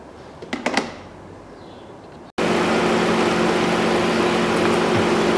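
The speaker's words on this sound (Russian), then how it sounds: "Все, двигатель поработал." A few quiet clicks, then the 3.5-litre engine of a 2013 Ford Explorer suddenly starts and settles into a steady, even idle rumble, warming the automatic transmission.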